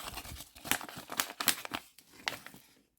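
Crackly plastic crinkling in irregular bursts, close up, as a small seed packet is handled and squeezed, fading to quiet at the end.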